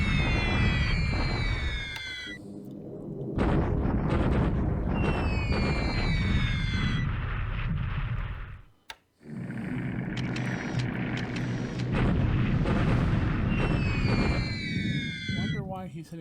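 In a war video game set in December 1942, a large B-17 bombing raid produces dense, roaring rumbles of explosions and whistling falling tones that repeat in waves, with a short silent gap partway through.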